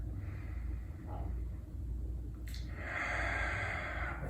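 Steady breathing during a hatha yoga class, a long soft airy breath that swells in the second half, close and alone over a low background hum.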